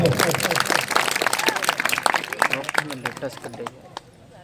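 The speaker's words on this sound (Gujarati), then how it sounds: "એક તાળીથી અમને બધાને વધાવો" Audience at an outdoor village satsang claps in a dense, steady burst that gradually thins out and fades near the end, with voices mixed in.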